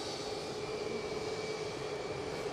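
Jet airliner arriving from Washington at Edinburgh airport, a steady, fairly distant engine roar with a faint whine held evenly throughout.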